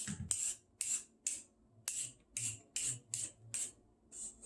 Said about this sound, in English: I can hold the carrot and, peel it like this